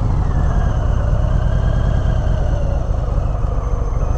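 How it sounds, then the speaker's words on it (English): A 2021 Harley-Davidson Sport Glide with a Milwaukee-Eight V-twin engine runs with a loud, close, continuous low rumble that holds steady throughout, with no talking. "Oh, the Milwaukee 8, such a tamed engine, but such a beast"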